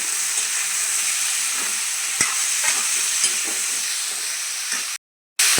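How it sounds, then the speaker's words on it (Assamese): Sliced onions and bay leaf sizzle steadily in hot oil in a pan, a continuous frying hiss with a few scraping stirs, briefly cut off near the end. "পিঁয়াজ তেজপাত আৰু জ্বালা দিছে এনে ভালদৰে লাৰি দিছে"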